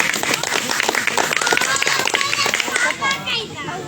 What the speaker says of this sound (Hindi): हम लोग तालियों से स्वागत करें डॉक्टर जी का।